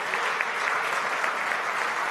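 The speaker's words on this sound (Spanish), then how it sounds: "Un fuerte aplauso, señores." Steady, dense applause from a large crowd at a presidential election certificate ceremony, loud and continuous throughout with no pauses.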